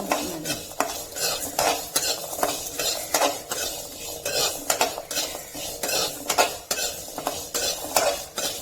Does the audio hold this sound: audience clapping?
no